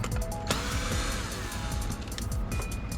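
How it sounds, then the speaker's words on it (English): A screw gun whirs steadily while backing screws out of a Beautural hand steamer, its motor humming and ratcheting continuously up close with small clicks and shifting pitch. "Let me find my screw gun."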